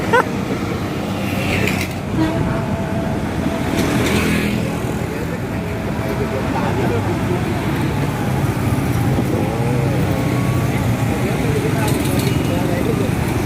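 Small bus passing by a roadside bus agent's stop at night, a steady rumble of engine and traffic with voices talking over it throughout.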